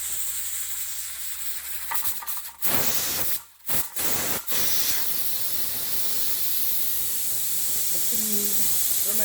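A pressure cooker holding mutton vents steam on a switched-off stove, a steady loud hiss broken by a few brief dips, then continuing evenly to the end.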